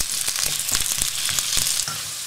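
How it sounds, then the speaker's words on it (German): Potato slices fry in hot olive oil in a pan for a German potato and kale quiche, a steady close sizzle with scattered pops and crackles throughout, no voices. "Und wenn das Öl heiß ist, dann könnt ihr schon mal eure Kartoffelscheiben reingeben."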